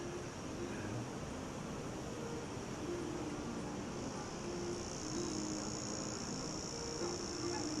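Cicadas drone in a steady, dense buzz that never lets up, loud and continuous, above low rumbling background noise near a surf beach on a busy Sunday morning.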